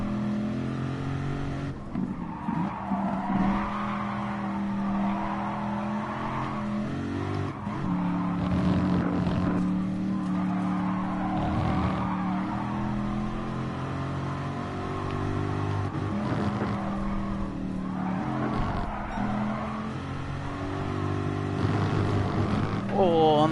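A race car engine in Gran Turismo Sport howls steadily and revs hard as too much throttle is applied, with a sustained droning tone that rises and shifts, while someone talks over it.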